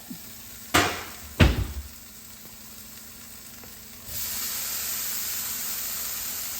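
Kitchen oven door opening and shutting, two sharp close clunks a moment apart, followed later by a steady low hiss; no talking.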